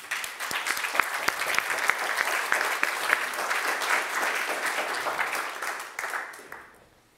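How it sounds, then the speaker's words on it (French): An audience applauding at a CNRS awards ceremony, steady dense clapping from a crowd in a hall that holds for several seconds and then fades out. "On peut les applaudir."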